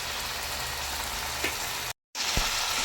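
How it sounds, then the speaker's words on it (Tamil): Mutton frying in oil in a pan, a steady close sizzle with a brief drop to silence partway through. "இப்போ பாருங்க எண்ணெயிலேயே நல்லா வெந்து வந்திருக்கு இது மாதிரி நல்லா ஃப்ரை பண்ணணும்"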